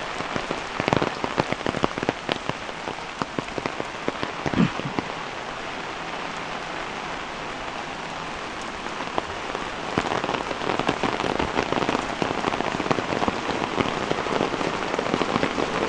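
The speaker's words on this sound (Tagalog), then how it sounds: "total umuulan naman" Steady rain falls outdoors near a cemented running canal, a dense, even patter with scattered louder drops throughout.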